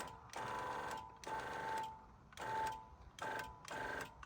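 An electric oil press pressing black sesame seeds for cold-pressed oil runs in rhythmic bursts of mechanical whirring with a steady whine, each lasting about a second and separated by short quiet gaps.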